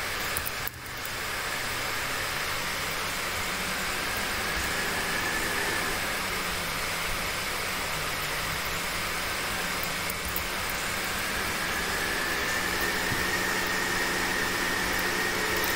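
An Ursus tractor drones through a farm harvest in a farming video game, a steady, fairly loud engine hum with a broadband rushing tone that barely changes from start to finish.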